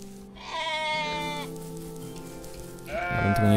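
Sheep bleating in the OneShot video game, two drawn-out, wavering bleats separated by a short pause, loud and close with no talk over them.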